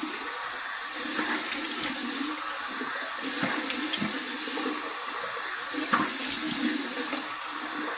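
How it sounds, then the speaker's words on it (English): Cold water runs steadily from a tap for a post-shave rinse, a continuous splashing flow lasting several seconds with faint surges, close and alone without talk. "here's my cold water rinse"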